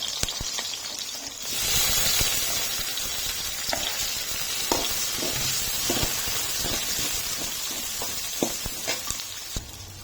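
Onions frying in hot mustard oil for a fish curry, a loud close sizzle and hiss running throughout with sharp clicks and scrapes of a spatula stirring, no speech.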